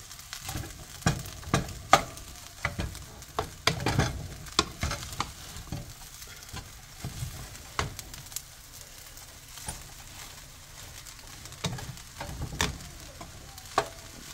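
Shrimp being stirred into fried rice in a pan, with a continuous soft sizzle under repeated scraping and tossing strokes of the spatula, the louder strikes falling in irregular bursts.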